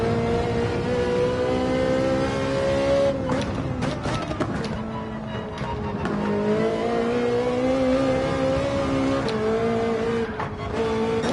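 Race car engine held at full throttle in Gran Turismo 7 on the Daytona Road Course, a loud, continuous high-revving drone with shifting pitch across the run, alone without talk.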